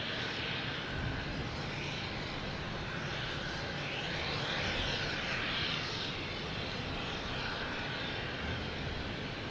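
A JetBlue Airbus A220 takes off from Boston Logan Airport, a distant, faint jet roar that swells gently and stays steady, with no talking.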